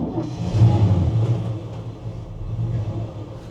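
A 1966 Chevrolet C10 with a 327 V8 idles in a low, steady rumble right after starting up, holding a close, even throb with slight swells throughout.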